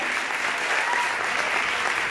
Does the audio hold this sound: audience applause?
yes